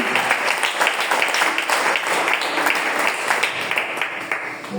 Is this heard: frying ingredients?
no